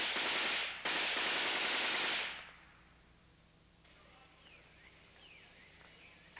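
A sustained burst of machine gun fire, evoking a firing squad execution against a wall at Fort Rupert, rattles loudly for about two seconds with one short break, then cuts off into a faint background where birds chirp.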